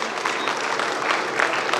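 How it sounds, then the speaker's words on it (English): Steady, dense applause from an audience at a school auditorium inauguration in New Delhi fills the space, sustained clapping with no pauses or voices. "give a thunderous round of applause to welcome the man to our institution"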